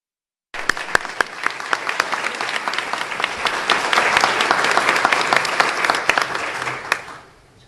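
Sustained applause from an audience at a Pearland ISD press conference, a dense wash of many hands clapping that swells steadily for several seconds before cutting off quickly.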